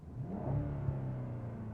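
A 2023 BMW X6 M60i engine accelerates with its artificial sound feature switched off, a fairly quiet, smooth rising hum heard from inside the cabin.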